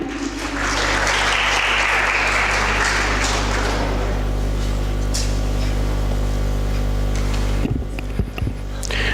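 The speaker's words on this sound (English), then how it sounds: "A big round of applause for him." An audience at an English speech competition applauds a competitor, with loud, dense clapping over a steady low hum that tapers away after a few seconds, leaving the hum and a few scattered knocks.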